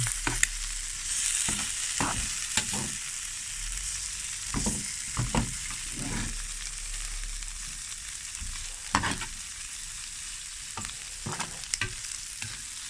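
Crispy shellfish pancake (hoi tod) fries in a hot pan with a continuous bright sizzle. Sharp scrapes and taps from a spatula against the pan repeat irregularly over about thirteen seconds, with no speech.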